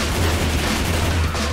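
Sustained gunfire in Left 4 Dead 2, a dense, continuous rattle of shots with a heavy low boom underneath, loud and unbroken for the whole short stretch.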